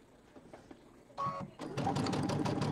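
Sewing machine stitching a quarter-inch seam on fabric with vinyl, a quick fast whirring run of needle strokes that starts after a few soft handling noises and grows steady and close.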